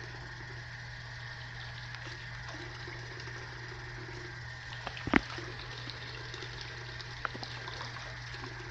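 Warm water runs steadily from a tap while hair extensions are rinsed, a constant low hiss and hum with a brief louder splash partway through and a small knock near the end.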